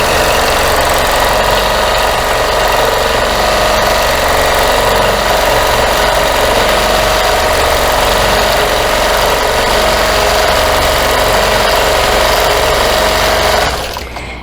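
A quilting machine running in manual mode at 55% motor speed stitches a quilt's background: a loud, close, steady mechanical whir with a rapid rhythmic chatter holds without a break for about fourteen seconds, then cuts off.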